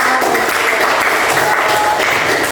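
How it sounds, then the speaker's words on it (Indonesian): A class of children at a school in Merauke bursts into dense, even applause that fills the room and cuts off abruptly at the end. "Oke, kita beri tepuk tangan."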